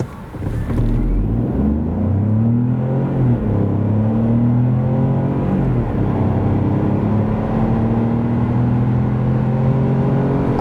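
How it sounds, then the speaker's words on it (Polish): An Opel Frontera 1.2 hybrid accelerates hard from standstill to 100 km/h. The engine note climbs steadily in rising sweeps through smooth gear changes, loud and continuous inside the cabin, with no talk. "Jeśli chodzi o dynamikę układu hybrydowego, to tak auto przyspiesza od 0 do setki."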